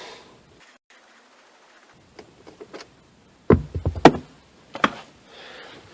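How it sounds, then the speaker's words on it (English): Plastic shift knob being unscrewed in a 1988-2000 Honda Civic interior, giving a few scattered close clicks and knocks followed by a brief cluster of sharper taps, with quiet pauses between. "the first thing I'm going to do is unscrew this shifter knob"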